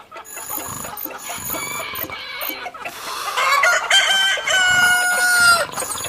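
A rooster in the Detective Hayseed video game crows loudly with a long, bright cock-a-doodle-doo that rises over tinkling game music and clucking, and grows fuller toward the end.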